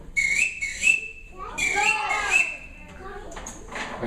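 Bright whistled bird-call imitations by a person in short bursts and warbles, with speech mixed in between the phrases.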